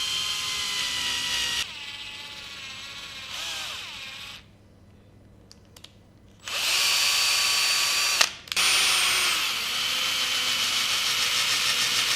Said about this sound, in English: I will try to remove the cables from the inside by using a drill